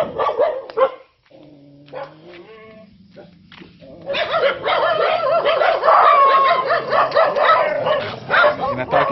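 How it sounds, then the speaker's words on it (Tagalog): Several very large dogs in the Philippines bark and yelp loudly and continuously close by, with a brief lull partway through before the barking resumes in a dense, overlapping chorus. "Inatake ako ng mga aso, guys."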